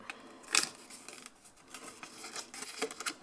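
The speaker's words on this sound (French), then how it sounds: "je vais venir découper mon carré" Scissors snip through a square of paper in a series of quiet, crisp cuts, with one louder snip early on and soft rustling between the strokes, no one talking.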